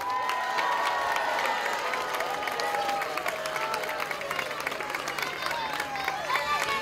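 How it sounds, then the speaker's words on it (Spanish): A large family crowd at the outdoor inauguration of an arch in Ituzaingó cheers and applauds a children's entertainer. Continuous clapping, shouting kids and whistles build a lively, sustained roar. "¡Fuerte el aplauso para mi amigo Larry Sota!"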